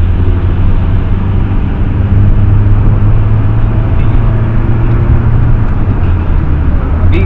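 A Mahindra XUV700 AX7 diesel SUV with a manual gearbox accelerates, giving a loud, steady engine and road roar heard from inside the cabin that holds for several seconds without talk.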